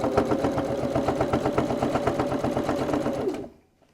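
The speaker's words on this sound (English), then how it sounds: "I'm probably stitching about 4 inches and then stopping," A sewing machine stitches a short run on a cosmetic bag lining and zip, a fast, even mechanical chatter close up for about three seconds before stopping.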